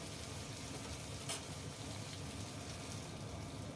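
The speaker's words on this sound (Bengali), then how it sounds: "দিয়ে একটু ভাজা ভাজা করছি" Green chillies and spices frying in oil in a pan for a Bengali parshe fish curry with potato and eggplant, a faint, steady sizzle close by with no voices.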